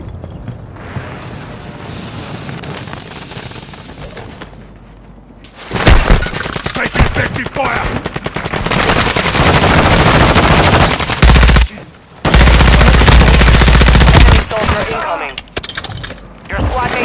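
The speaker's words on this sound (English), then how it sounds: "Precision airstrike." Call of Duty: Modern Warfare II gameplay erupts into loud, sustained automatic gunfire and booming blasts from a precision airstrike, dense bursts filling the scene with only brief gaps between them.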